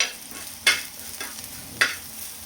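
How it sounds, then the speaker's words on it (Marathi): A thick spice paste sizzles steadily in a pan, while a spoon scrapes and taps the pan twice. "आता आपला मसाला मस्त छान परतलाय"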